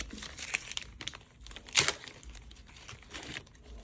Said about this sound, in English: We want to go ahead and take off all the tape.